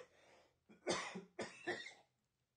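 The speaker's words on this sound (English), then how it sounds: "Okay, just had to cough." A person coughs a few times close to the microphone in a quiet room, short harsh bursts with a brief breath between them.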